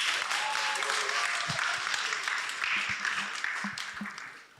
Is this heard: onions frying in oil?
no